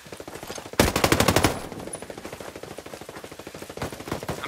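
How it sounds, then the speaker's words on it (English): Automatic gunfire in the Ghost Recon Breakpoint shooter game: a loud, rapid burst of shots, followed by a steady stream of quieter repeated shots in quick rhythm. "Hostiles are shooting."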